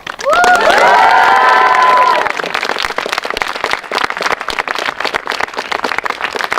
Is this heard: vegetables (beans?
no